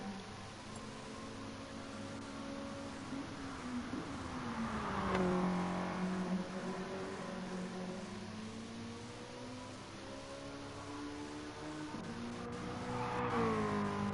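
A Mazda MX-5 Cup race car in Gran Turismo Sport holds a steady engine drone that rises and falls through the gears, with a lift and re-acceleration near the middle and again at the end, heard alone.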